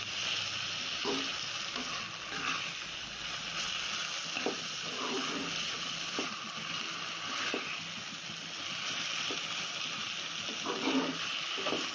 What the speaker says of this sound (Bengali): এর মধ্যে চিকেনটাকে দিয়ে কষে নেব।